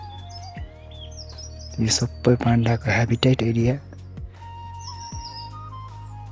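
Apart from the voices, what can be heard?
birds chirping in a dense bamboo forest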